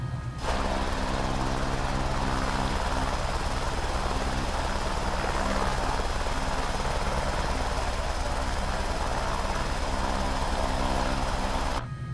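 An Airbus H125 helicopter in Microsoft Flight Simulator runs loud and steady at takeoff, its rotor beating in a continuous throb under a high turbine whine from start to finish.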